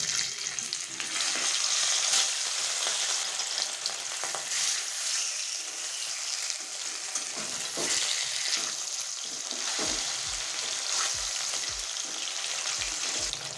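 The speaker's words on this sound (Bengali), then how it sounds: "তেল খুব ভালোভাবে গরম হয়ে গেছে, গ্যাসের ফ্লেমটা লো করে দিচ্ছি। এবার আস্তে আস্তে মাছটা আমি দিয়ে দিচ্ছি।" Pieces of catla fish sizzle loudly in hot oil over a gas flame, a broad, steady crackling hiss that carries on unbroken with a few low knocks near the end.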